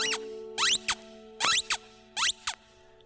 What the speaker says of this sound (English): Freddie Bear, my teddy bear, can squeak to me